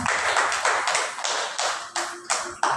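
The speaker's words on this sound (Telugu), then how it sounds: "గట్టిగా చప్పట్లు కొడదామండి." A church congregation claps loudly during a Sunday worship service, a run of broad sharp bursts coming close together and fairly near, with no talk over it.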